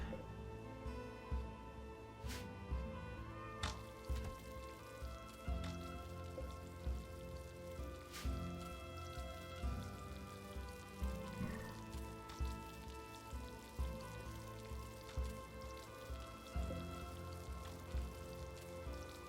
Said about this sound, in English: Oh, I see. It's raining.